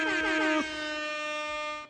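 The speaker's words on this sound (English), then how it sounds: "let me get the air horn" An air horn sound effect: one loud, sustained blaring blast with a wavering start, held steady for nearly two seconds before cutting off.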